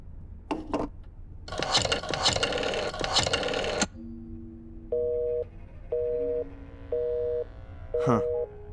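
Telephone tones in the Black Mirror 2 video game: a burst of noisy rustling gives way to a low steady tone, then four evenly spaced electronic beeps ending in a brief crackle.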